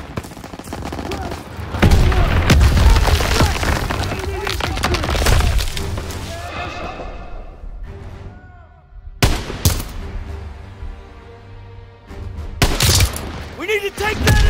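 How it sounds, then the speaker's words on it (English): Dense gunfire and explosions in Call of Duty WW2, a Normandy battle with rapid rifle and machine-gun bursts and booms, loud and continuous, with voices shouting among the shots and scattered sharp reports later on. "Gunfire! We must be near our guys."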